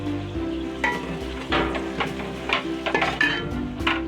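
Tomatoes and green chillies drop into mutton keema masala frying in a pan, giving a steady close sizzle broken by repeated stirring scrapes and clinks of a utensil against the pot, with no voices.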